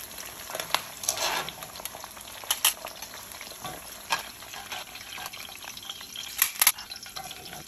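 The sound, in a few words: vegetables frying in oil in a wok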